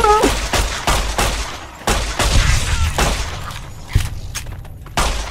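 Pistol fire in the video game Fallout: New Vegas, about six or seven loud shots spaced roughly every second, each a sharp crack with a short tail, and a brief exclaiming voice at the start.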